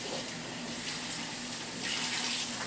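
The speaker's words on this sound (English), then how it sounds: "just tap water, really hot" Hot tap water runs steadily from a faucet into a sink, a continuous close splashing stream that swells slightly louder near the end, with no talking.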